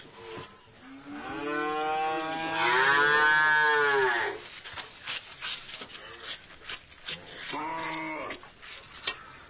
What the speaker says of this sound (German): da ist eine Kuh los. Das darf gar nicht sein.